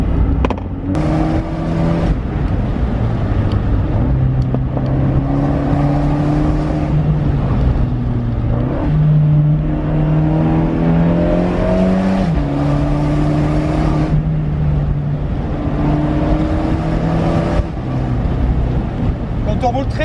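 An Abarth 124 Spider is driven hard along twisting Corsican roads, its engine note rising and falling steadily with gear changes, loud and close throughout, with someone speaking over it in places.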